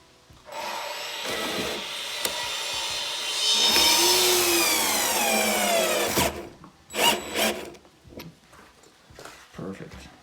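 A drill revs up and pre-drills into wooden shiplap in a tiny house build for a few seconds, its pitch sliding as it works, followed by scattered knocks and handling noises.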